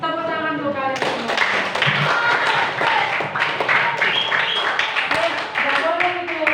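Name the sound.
students clapping in class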